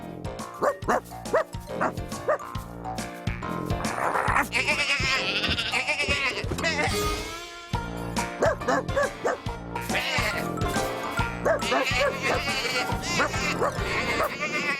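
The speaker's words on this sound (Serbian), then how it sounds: "Ali je Fi videla ovce." Cartoon sheep on a farm bleat in a wavering, nasal series of calls over a bouncy background score, with barking and other animal cries mixed in and a voice briefly speaking.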